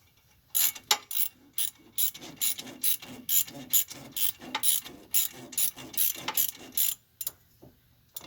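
A socket ratchet clicks in repeated short bursts while loosening hardware on the wheel hub of a 2000-2006 Chevy Suburban, each burst of close, sharp ratcheting separated by brief pauses in a steady rhythm.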